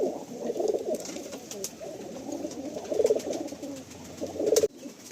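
Pakistani breed pigeons in a large loft coo continuously in overlapping low, throaty burbles, close and fairly loud, with occasional wing flutters and brief rustles.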